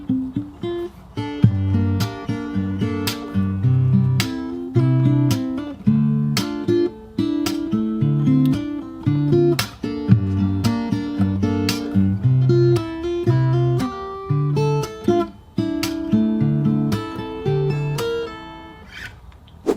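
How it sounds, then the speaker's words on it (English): Fingerstyle acoustic guitar plays the first half of a verse of a song, with a bass line and chords plus sharp percussive slaps on a steady beat, solo and close. "So I'll play through the first half of that verse."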